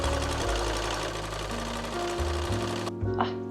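A sewing machine stitches a dress bodice with a loud, close, rapid mechanical whirr and buzzing motor hum. The pace shifts a few times, then the motor cuts off abruptly near the end.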